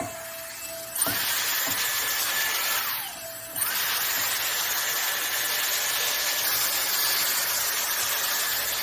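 A Dyson AirStraight blows a steady, loud rush of air with a high whine while drying and straightening wet hair, briefly dipping and shifting in pitch as it moves before surging back to a constant roar.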